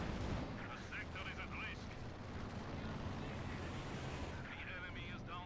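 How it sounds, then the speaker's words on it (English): A bombing strike in Company of Heroes 2 sets off a dense rumble of explosions and blasts across the battlefield, with a commentator's voice talking over the din. "Bombing strike again."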